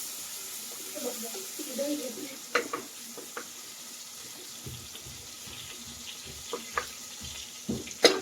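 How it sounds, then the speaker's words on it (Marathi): Chopped tomatoes sautéing on low gas with onion, ginger and garlic paste for paneer biryani: a faint, quiet sizzle broken by a few soft stirring clinks and scrapes. "टमाटो परतायला थोडा वेळ लागतो म्हणून थोडस गॅस थोडा कमी करायचा आणि कमीवर थोडस परतू द्यायचं"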